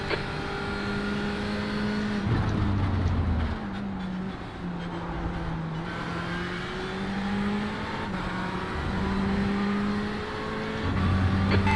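LMP1 prototype race cars in the iRacing sim, with a steady loud engine drone and rising and falling pitch as faster cars close in and pass, a continuous roar throughout with no talking.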